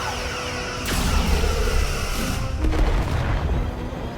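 Starship weapons fire in Star Trek Resurgence as a loud, dense barrage of booming blasts, with two sharp volleys standing out over a continuous rumbling roar.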